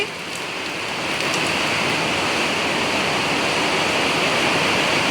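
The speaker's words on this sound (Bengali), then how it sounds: "দেখতে পাচ্ছ পুরো বৃষ্টি" Heavy rain pours down in Siliguri in a dense, unbroken hiss, close and loud, swelling slightly in the first second then holding steady.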